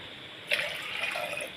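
Water pours steadily into a cooking pot for ragi porridge, a continuous close splashing gush lasting a second or so, with no talk.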